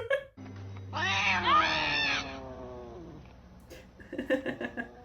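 A cat in the animated film Coraline lets out one long, rising-and-falling meow, fairly close and clear, followed by a few soft, short rustling sounds.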